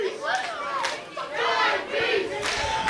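A wrestling show crowd cheers and shouts in waves, loud rising bursts of voices from a packed audience over a few seconds.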